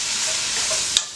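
Honey and soy sauce being stirred into seasoned aster greens (chwinamul), a steady close, soft wet scraping and mixing texture throughout with a brief sharper clink near the end, no voices.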